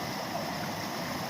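Cascading water at outdoor hot springs gives a steady, broadband rushing wash, constant and fairly close with no variation.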